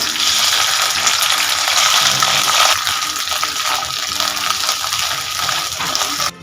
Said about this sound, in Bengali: এইবার এই তেলের মধ্যে ভেন্ডিগুলো ভেজে নেব